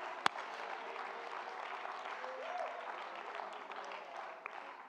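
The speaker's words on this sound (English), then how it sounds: "somebody clap your hands unto the Lord." A church congregation claps hands during worship, a dense, sustained wash of applause from many people, with a sharp single clap standing out near the start.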